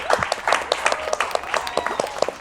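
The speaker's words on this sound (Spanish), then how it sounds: "Aplauso para la radio, por favor" A small audience claps briefly for radio at a podcast taping. The sparse, uneven handclaps come from a few nearby people and last only a couple of seconds.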